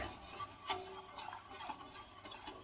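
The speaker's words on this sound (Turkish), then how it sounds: "başamel sosumuz kaynayana kadar karıştırıyoruz" A utensil stirs béchamel sauce in a pot on the stove, giving soft, irregular scraping and swishing strokes with a sharper tick where it knocks the pot's side; quiet and close, with no speech.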